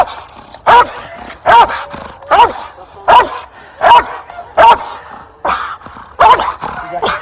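A dog barks in loud, evenly spaced single woofs, about eight in a row, close by during a police arrest scene after a shooting, with brief voices in the background.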